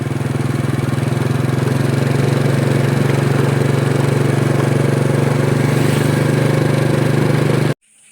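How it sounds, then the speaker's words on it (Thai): A motorbike engine drones steadily and loud while riding along a village road in southern Laos, a constant low hum with wind rush above it, cutting off abruptly near the end. "ผมขี่รถเลาะเล่นดูนะฮะ"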